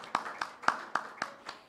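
Six slow, separate claps at a town hall meeting, evenly spaced and fairly faint, with no crowd joining in and no talk.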